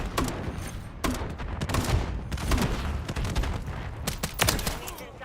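Rapid bursts of video game gunfire crackle almost continuously, with sharp loud shots layered over a busy battle din and occasional radio-style voices.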